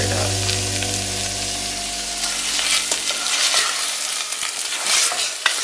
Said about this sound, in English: you wanna add tomato paste in there and stir it up